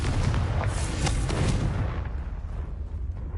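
Confringo, an explosive spell in Hogwarts Legacy, bursting with a loud, booming blast and a burst of crackling debris, then a rumbling tail that fades over the next couple of seconds.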